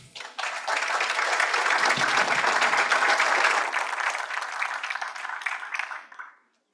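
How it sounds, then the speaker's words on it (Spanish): Audience at a public security technology talk giving a speaker a welcoming round of applause, a dense burst of clapping that builds quickly, holds steady and then tapers off to silence. "Lo recibimos con fuertes aplausos."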